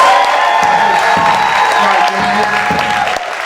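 Audience at a memorial concert for Alex Nieto at Brava Theater applauds the performers, with steady clapping and some cheering filling the room up close.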